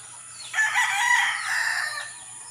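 A rooster crows once, a loud, drawn-out call rising then trailing off, with a steady faint hum in the background.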